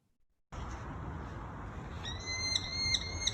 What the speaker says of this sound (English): Listen to this bird.